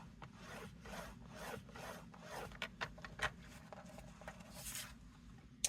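A paper trimmer scores cardstock for a pumpkin craft kit, giving soft repeated scraping strokes, close and quiet, with a few small clicks and no talking.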